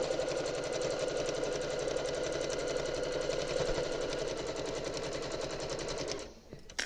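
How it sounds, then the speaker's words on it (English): A sewing machine runs steadily as it back stitches through quilt binding, a dense fast mechanical rattle held close and loud for about six seconds before stopping abruptly. "This is one of the only places where I do back stitch."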